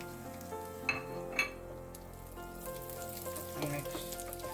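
Raisins frying in hot fat in a pan for carrot halwa, a close, continuous sizzle with a couple of sharp clinks early on, no voices.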